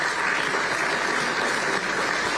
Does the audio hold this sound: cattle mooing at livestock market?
no